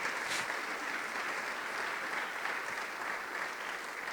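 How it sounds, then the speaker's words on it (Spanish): A church congregation claps together in steady, continuous applause during a Spanish-language sermon, moderately distant and without talk over it. "Dele fuerte las palmas al Señor."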